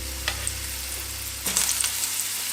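Vegetables frying in hot oil while cooking Jamaican steamed callaloo with carrot, a steady close sizzle with a few clatters of stirring, no talk.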